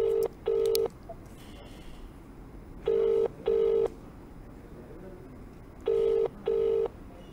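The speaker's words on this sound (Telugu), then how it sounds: "ప్రస్తుతానికి కాల్ రింగ్ అవుతుంది" A telephone ringback tone sounds while a call waits for an agent to answer: three cycles of two short, clear tone bursts, each pair repeating about every three seconds, alone over faint background hiss.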